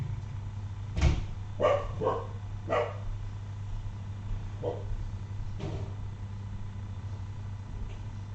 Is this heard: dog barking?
yes